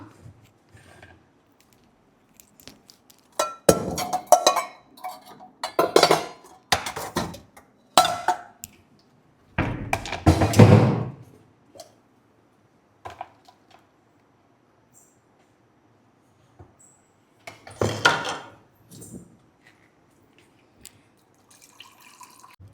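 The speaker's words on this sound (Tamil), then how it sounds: "இப்போ நம்ம வந்து இதை அரைச்சாச்சு நெக்ஸ்ட் வந்து ஃபில்டர் பண்ணிக்கலாம்" Ground pani puri water filtered in a kitchen, heard as bursts of pouring, dripping and splashing liquid separated by quiet pauses, with occasional utensil clinks.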